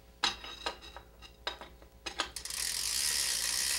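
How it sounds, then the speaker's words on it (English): A pedal wrench tightens a left bicycle pedal, several sharp close metallic ratcheting clicks in short bursts, followed by a steady hiss, with no talk. "Start the threads by hand, and then use your pedal wrench."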